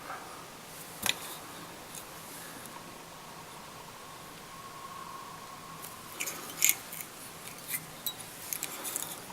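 Small scissors nick off thread and material while a salmon fly is tied, giving a few quiet, sharp snips spaced apart, with a cluster of light clicks near the end, over a soft background hiss.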